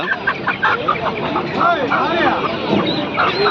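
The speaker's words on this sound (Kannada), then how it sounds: "ಇದು ಹುಂಜ" An aseel rooster and other fowl cluck and squawk at a busy poultry market in Kundarapalli, Krishnagiri, close and fairly loud amid steady talking.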